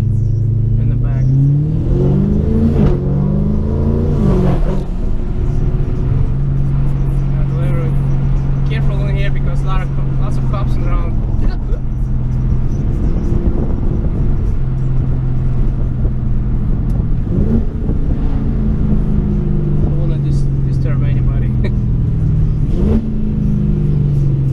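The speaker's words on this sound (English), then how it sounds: "Exhaust tone is so sick." An Audi S5 with a swapped 4.0T engine and a stage 3 upgraded exhaust, with a 3-inch downpipe, a single 4-inch muffler and split 3-inch tailpipes, revs repeatedly in loud, deep surges and settles to a rumbling idle between them, while a person talks over it.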